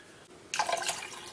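Half a cup of water poured into a marinade for a kettle-grilled chicken, a short splashing pour that starts abruptly after a quiet moment and runs steadily to the end.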